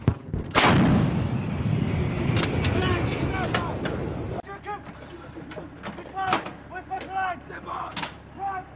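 An M777 towed 155mm howitzer fires during a U.S. Marines live-fire exercise, one huge booming blast rolling away into a long echo, followed by sharp clanks and shouted crew commands.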